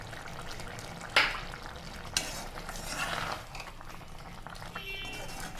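A spoon scrapes and clinks against a pan as ground coconut and fennel are stirred into a drumstick fry, a few sharp metallic taps with soft scraping and light sizzle between them.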